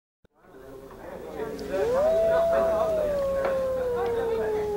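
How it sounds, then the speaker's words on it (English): A wolf howl from the video game Dracula Unleashed, one long, loud, rising-then-slowly-falling tone that follows a brief click and builds over a low rumbling background. "It was a wolf's howl"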